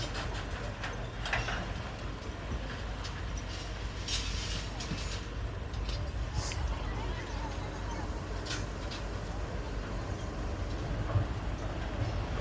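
A continuous rumbling rattle of a train rolling along the new Den Chai–Chiang Rai–Chiang Khong double-track railway in Phayao, Thailand, steady and close, with faint scattered clicks and no break.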